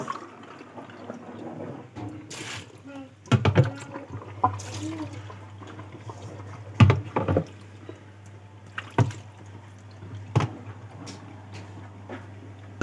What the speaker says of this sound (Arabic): كده احنا ايه بنبدأ بقى نكب المية اهيت